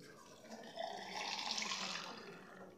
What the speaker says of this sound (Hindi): और अब मैं इसमें पानी डाल रही हूँ।